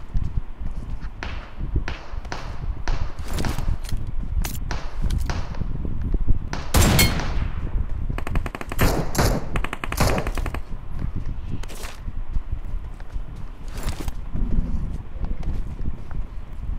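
Rapid bursts of gunfire from the mobile battle royale game BGMI, sharp cracks and short automatic volleys scattered irregularly over a low background, with no talk.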